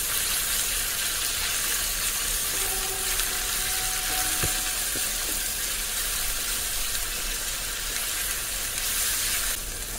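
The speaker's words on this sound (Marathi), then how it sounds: "आता व्यवस्थित परतून घ्यायचं म्हणजे गोल्डन ब्राऊन होईपर्यंत भाजून घ्यायचं" Onion with ginger-garlic paste frying in oil for a vegetable dish, a loud, continuous dense sizzle holding steady throughout, with faint tonal hints in the background.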